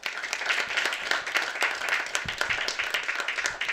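Applause from a comedy club audience, a dense, steady patter of clapping hands that swells and dips slightly, moderately loud and continuous with no talking over it.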